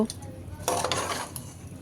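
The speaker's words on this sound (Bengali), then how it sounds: "সবজিটাকে এবং পোলাও চাল সব কিছু একসাথে নেড়ে চেড়ে খুব সুন্দর করে মিশিয়ে নিচ্ছি" Vegetables and polao rice for beef khichuri get stirred in a pot, soft scraping and clinks of a spoon against metal with a light sizzle underneath, fairly quiet and close.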